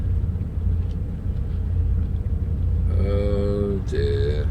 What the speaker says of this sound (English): it looks like it's very warm and windy